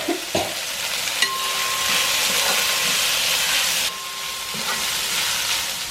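Two sliced onions sizzle loudly in hot coconut oil, a dense, continuous spattering hiss. A few sharp clinks from stirring come at the start, and the frying carries on unbroken.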